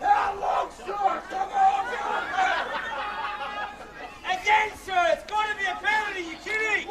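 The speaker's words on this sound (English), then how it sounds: "Crowd getting very vocal now" Spectators at a Grade C rugby league match between the Morisset Bulls and Windale Eagles shout and chatter loudly in a steady, rising din, with individual voices calling out above the crowd.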